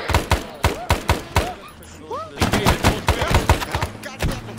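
Gunfire in the military game Arma 3 Vietnam: loud, close shots come in irregular rapid bursts with short pauses between them, and faint whistling and whooshing effects sound in the gaps.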